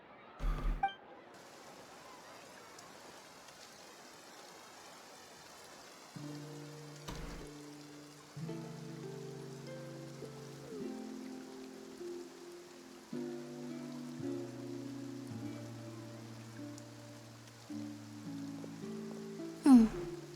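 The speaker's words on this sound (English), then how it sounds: "Looks like rain." Light rain patters steadily through a quiet scene in the game Genshin Impact, a faint soft hiss running under a slow sequence of sustained musical tones, with a couple of sharper clicks at the start and end.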